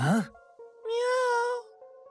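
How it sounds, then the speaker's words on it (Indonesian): A stray cat gives a clear, drawn-out meow after a brief earlier sound, close and fairly quiet in an otherwise silent indoor room. "Itu hanya kucing liar."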